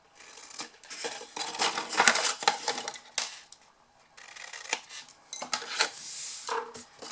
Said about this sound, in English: on the outer one, cut some very slim wedges on either side